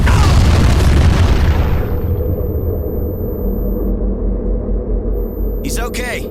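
A large wartime explosion in Call of Duty 3 booms at the start, then settles into a long, deep rumble. A voice calls out near the end.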